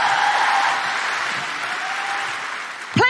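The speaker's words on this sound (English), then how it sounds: "Please keep that incredible applause going" Audience applause at a live comedy show, a sustained wash of clapping from a large crowd that thins slightly toward the end, with a sharp brief sound cutting in at the close.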